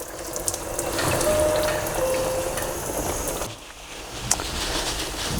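An ATF360 Bardahl machine flushes the automatic gearbox of a BMW X3 xDrive, giving a steady, close rush of flowing fluid like a running tap that drops away and softens for its final stretch, with a brief click near the end.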